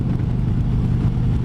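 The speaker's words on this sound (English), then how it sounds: "If it gets over 4, you could just hear that crazy exhaust sound." Motorcycle exhaust rumbling steadily while riding, a dense low drone close by and fairly loud, with no talking.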